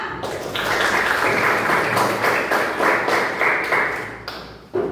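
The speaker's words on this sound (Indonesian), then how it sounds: "Tepuk tangan untuk Diwa." A classroom of students claps for a classmate in a dense, fairly loud burst that lasts about four seconds, then cuts off abruptly.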